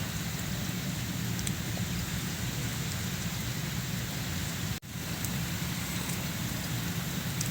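Steady rain falling across the whole stretch, a dense even patter with a brief dip in the middle, no voices.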